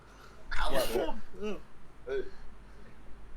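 A single sneeze bursts out near the mic, followed by a couple of softer breathy vocal sounds.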